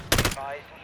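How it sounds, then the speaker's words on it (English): A sniper rifle shot in Modern Warfare 3 team deathmatch: one sharp, loud report with a brief burst of noise, then a fading ringing tail. "Somebody's sniping."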